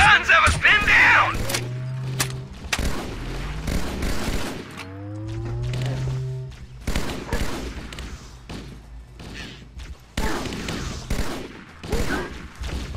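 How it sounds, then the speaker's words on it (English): Heavy bursts of Covenant gunfire in Halo: Combat Evolved, with repeated booming shots and volleys, while game voices talk over the action. "Those freaking guns have us pinned down!"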